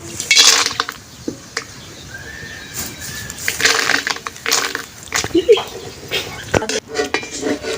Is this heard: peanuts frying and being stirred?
yes